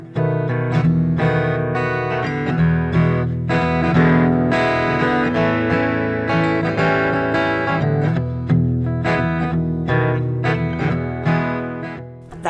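An acoustic guitar played through an electric-guitar drive pedal, giving distorted, saturated strummed chords and picked notes with a sustained, gritty tone throughout, no voice.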